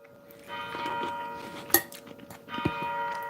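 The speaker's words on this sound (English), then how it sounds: "And this is the church bell outside." A church bell rings outside, heard through an open window, with resonant tones swelling and fading at a moderate distance alongside a couple of small nearby clicks.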